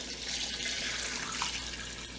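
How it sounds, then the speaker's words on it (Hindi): Water from a tap running into a cooking pot holding chicken with salt for stock, a steady splashing stream with a brief gurgle, close and fairly loud. "और पानी डालेंगे।"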